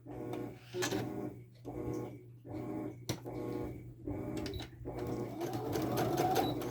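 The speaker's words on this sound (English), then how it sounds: "We're going to sew these two edges down." A sewing machine stitches down the edges of a snap bag in several short bursts of rapid mechanical whirring separated by brief pauses, with a longer run at the end.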